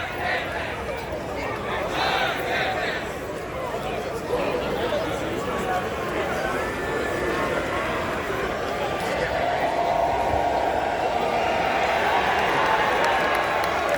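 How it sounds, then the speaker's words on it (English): Loud protest crowd at a Penn State campus event, a steady wash of shouting, chatter and scattered clapping from many people, sustained throughout with no pauses. "Crowd's getting pretty loud now."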